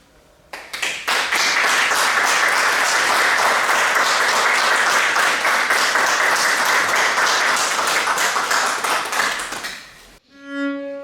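Loud, sustained applause from a crowd at a floral tribute ceremony honoring General Prim, many hands clapping densely for about ten seconds before cutting off abruptly, followed by a brief tonal sound.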